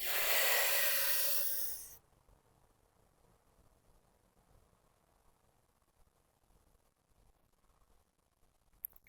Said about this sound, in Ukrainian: Відкриваємо замки, піднімаємо голову і видихаємо через ніс.